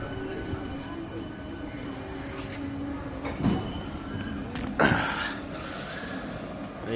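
A Bandel local train pulls into Sheoraphuli junction in a low, steady rumble, with a couple of louder rushing surges and a faint wheel squeal partway through, fairly quiet overall.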